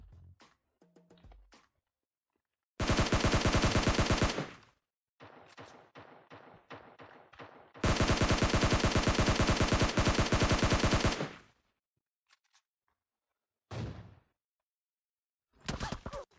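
Rapid automatic gunfire in the mobile game PUBG Mobile comes in two long, loud bursts with shorter scattered volleys and single shots between, separated by near silence.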